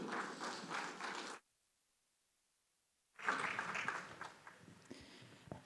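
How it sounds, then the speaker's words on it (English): Conference audience applause for a panel, a burst of clapping that cuts to silence, then resumes with a rustling, dense patter of many hands. "A big round of applause for our panelists"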